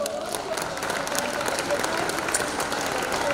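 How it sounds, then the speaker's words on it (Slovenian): Dense crowd applause with scattered cheers at a Ptuj Kurentovanje carnival as the carnival prince and princess are presented outdoors, a steady wash of clapping throughout. "Dajmo jima zaploskati."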